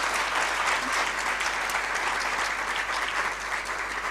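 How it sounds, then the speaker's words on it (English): A large audience applauds a children's performance at a network launch event, giving a steady, dense wash of clapping that stays loud and even throughout without a break. "Can we have a round of applause for them?"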